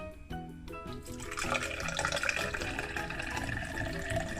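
Beetroot juice pours steadily into a container, a continuous splashing gurgle that starts after a brief pause and keeps going at moderate, close volume.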